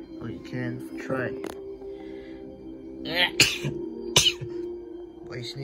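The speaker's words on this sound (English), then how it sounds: "Why sneezing?" A person sneezes twice in quick succession, sharp close bursts amid a few spoken words and throat sounds in a quiet indoor room.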